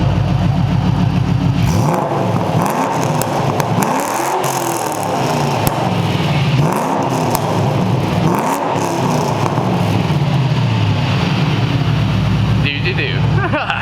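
A Ford Mustang 4.6L V8 with an MBRP S7270 3-inch cat-back exhaust revs repeatedly, loud and close, its deep rumble rising and falling in several swells over a steady idle, with people talking and cheering throughout.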